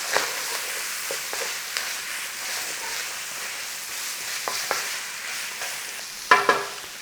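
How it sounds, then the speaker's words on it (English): Bacon being stirred back into a sizzling cheeseburger pie mixture in a frying pan: a steady soft frying hiss with occasional scrapes and clinks of the utensil, a sharper clatter near the end. "I'm just going to stir that cooked bacon back in there so it all intermingles"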